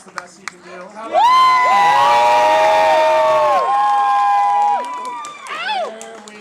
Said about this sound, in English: How about a round of applause for this evening so far?